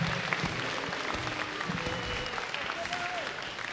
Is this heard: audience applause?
yes